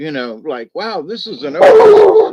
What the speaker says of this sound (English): that's my dog Duggar barking at stuff